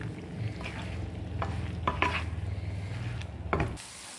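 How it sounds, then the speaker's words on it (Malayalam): Masala spices for cut mango pickle being stirred, a steady scraping, sizzling rub of spoon against pan that runs continuously and then stops near the end. "ഇത് നന്നായി മിക്സ് ചെയ്ത് കൊടുക്കണം ഈ മസാലകളൊക്കെ."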